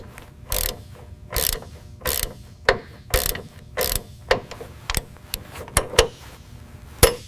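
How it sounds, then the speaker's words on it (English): Calibrated torque wrench tightening bolts on the tail wheel of a restored North American Mustang aircraft, giving a series of crisp ratcheting clicks in short irregular bursts, close and fairly loud with no talking. "Using a calibrated torque wrench ensures that the bolts are"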